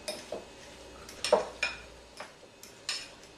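A fork stirring whipped cream cheese tartlet filling in a bowl gives light, scattered clinks and scrapes against the dish, quiet and irregular, with no voices.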